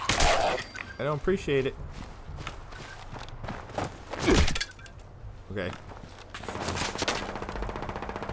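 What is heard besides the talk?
gunfire shooting at the player in the video game Fallout 76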